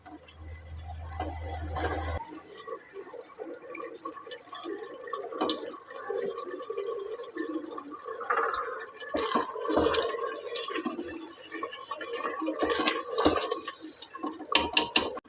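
Beef stew meat fries with yogurt in a pot in Pakistani style, giving a soft, steady bubbling sizzle with occasional light clinks of a utensil. No one speaks.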